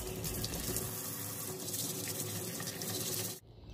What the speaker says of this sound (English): The next step is gonna be rinsing and washing the rocks off.